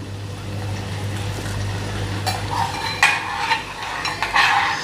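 Ghee heating and being stirred in a pan on a gas stove after long cooking, with a soft steady sizzle under a low hum and scattered scraping and clinking of a spoon against the pan that grows busier toward the end.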